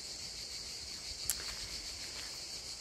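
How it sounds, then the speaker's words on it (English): Grasshoppers up in the trees in daytime heat make a continuous high, dense buzzing drone that stays steady throughout, with faint rustling beneath and no talking. "So that noise you can hear is actually grasshoppers that go up in the trees in the heat of the day."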